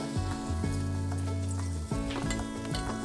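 Large wahoo fillets sizzle loudly and steadily on a grill, the crackle continuous and close while the pieces are turned, with tonal hum running underneath.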